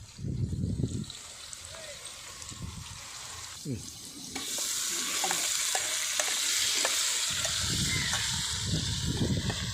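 Ginger-garlic paste ground with mint, green chili and coriander sautéing in hot oil for chicken biryani, a steady sizzle that swells louder midway, with scraping stirs and soft clinks throughout.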